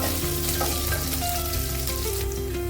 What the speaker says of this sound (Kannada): ಕರಿ ಲೀಫ್ ಹಾಕ್ತಾ ಇದ್ದೀನಿ. ಚೆನ್ನಾಗಿ ರೋಸ್ಟ್ ಮಾಡೋಣ. ಫ್ರೈ ಮಾಡ್ಕೊಳ್ಳಿ.